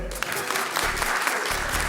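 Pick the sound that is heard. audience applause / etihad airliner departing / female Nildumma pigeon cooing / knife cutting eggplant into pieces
audience applause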